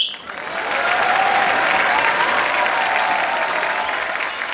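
A studio audience bursts into loud, sustained applause for a performer's entrance on a comedy show, a dense, steady roar of clapping with faint whistles riding on top.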